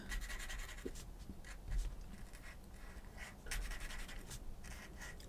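Soft, close scratching and rubbing of a Posca paint pen tip on paper while drawing zombie teeth, a run of quick short strokes with small taps and no talking.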